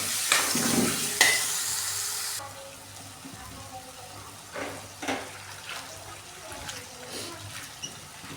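Red chili powder mixture stirred in a frying pan for a cabbage dish: a loud hot sizzle at first, then quieter frying with intermittent scraping stirs, no voices.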